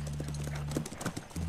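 Hooves clip-clop at a steady trot, then a horse whinnies briefly, close and fairly loud, in the video game The Last of Us Remastered.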